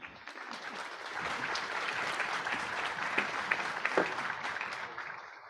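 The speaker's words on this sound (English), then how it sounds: "please give a warm round of applause" Audience applause at the GRCon23 radio software conference after a talk ends: dense, even clapping from a sizable room that holds steady for several seconds, somewhat distant and soft, with a few sharper claps standing out.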